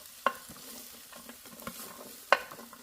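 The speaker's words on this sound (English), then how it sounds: "Our onions are starting to sizzle." Onions sizzle in a frying pan in a Ninja Combi, a steady close frying hiss with two sharp stirring clacks and light scraping.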